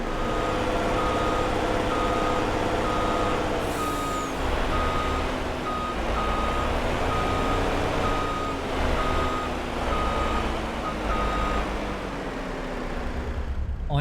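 Reversing beeps from a truck backing a milk trailer into a tight spot in Farming Simulator 22, a steady evenly spaced series of loud beeps over a continuous diesel engine rumble, with no talking.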